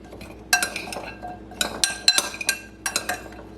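Radishes tossed with oil in a bowl, giving bursts of clinking and clattering against the dish in several quick rounds, loud and close with brief gaps between them.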